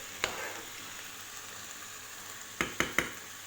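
Garlic, salt and pepper sizzle in hot oil with a steady soft crackle, broken by a sharp pop near the start and three quick spatters close together near the end.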